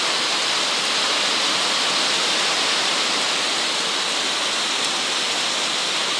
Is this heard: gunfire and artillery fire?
no